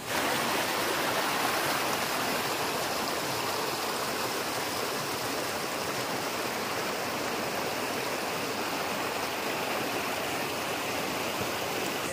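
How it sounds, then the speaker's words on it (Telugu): Bhupateshwara Kona waterfall roars in a steady, loud, unbroken wash of falling water, close and constant throughout with no talk. "మనం ఇప్పుడు భూపతేశ్వర కోన ఫాల్స్కి వచ్చాము"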